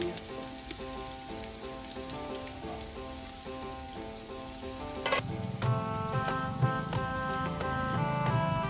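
Garlic and ginger paste with chopped onion sizzles in a hot pan, a close, steady crackling hiss that grows louder and busier partway through, with no voices over it.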